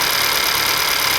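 A 2018 Honda Accord engine runs steadily while the car backs down off a ramp after an oil change, a constant close engine drone with broadband noise and no voices.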